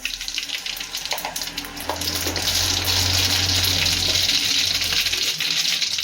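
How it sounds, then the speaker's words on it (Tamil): Mustard seeds hit hot oil and fry in a pan, starting as a quieter crackle and swelling into a loud, dense, continuous sizzle, close up with no talking. "எண்ணெய் காஞ்சிருச்சு கடுகு கொஞ்சம் சேர்த்துக்கலாம்"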